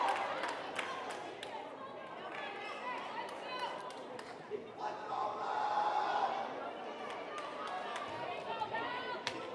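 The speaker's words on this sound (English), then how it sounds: "NMC crowd is here, fired up." A fired-up crowd in a gym cheers and chatters at a JV volleyball match against NMC, with a steady roar that swells louder midway and is punctuated by sharp shoe squeaks and claps.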